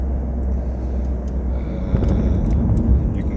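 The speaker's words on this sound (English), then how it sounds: "you can hear for yourself how this little car is maybe not really" A small Smart ForFour car's engine drones as it accelerates along a highway, a steady close rumble mixed with road and wind noise that swells slightly toward the end.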